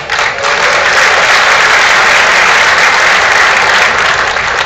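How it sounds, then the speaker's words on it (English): A large crowd of fans at the International Boxing Hall of Fame induction applauds itself, a loud, close, unbroken wash of clapping that holds steady throughout. "So applaud yourselves for that"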